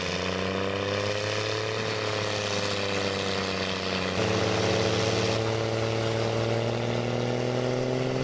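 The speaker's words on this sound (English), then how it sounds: "From the moment the chipper kicks into gear, you'll see trees processed with incredible efficiency." Wood chipper powered by a Claas Xerion tractor, a steady loud engine drone with a low hum that shifts pitch partway through, running continuously without pause.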